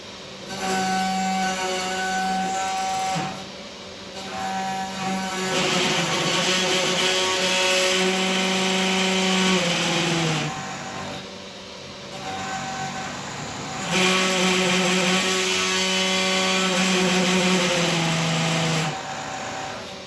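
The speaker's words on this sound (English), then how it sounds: "The rattling noise is just from a C-clamp that I have mounted." An old C-clamp rattles on a loosely mounted fixture while a CNC mill cuts. Loud machine whine and buzzing run the whole time, swelling and easing in long passes.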